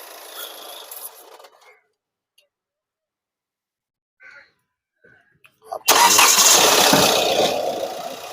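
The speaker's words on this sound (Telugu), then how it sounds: "ఇంజన్ అయితే స్టార్టింగ్ లో అయితే ఉంది." A diesel Hyundai Creta SX cranks and fires up after some brief talk and rustling, then settles into a loud, steady idle that fills the rest of the moment.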